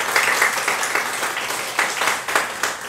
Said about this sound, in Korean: 박수를 함께 드리겠습니다